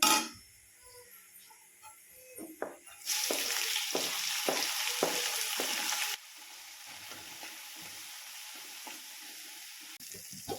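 Onions and tomatoes fry as a tadka in a pan for chana dal, giving a loud hissing sizzle that swells as ingredients are stirred in and then settles to a softer, steady crackle, with occasional utensil clinks.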